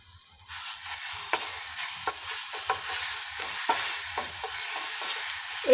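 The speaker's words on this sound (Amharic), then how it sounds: "እዚህ ጋር እንግዲህ ዘይቴ ትንሽ ጋል ብላለች። አሁን እንደዚህ አድርጌ ነጭ ሽንኩርት ልጨምርና" Garlic dropped into hot oil in a pan, making a steady close sizzle punctuated by repeated short stirring clicks and scrapes, with no talking.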